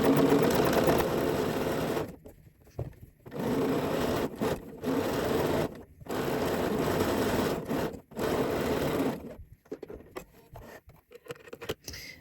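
A sewing machine stitching a dress ruffle, running in steady bursts of a second or two separated by short pauses, close and even, with no voices.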